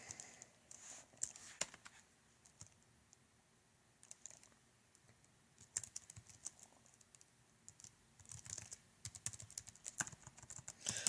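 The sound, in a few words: typing on a computer keyboard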